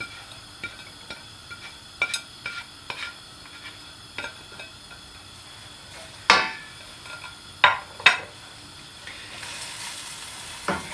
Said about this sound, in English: these celery, onions and garlic go straight in